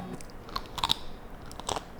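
A few sharp crunchy bites into a crispy breaded vegan buffalo wing, close up, with short crackling bursts and chewing in between.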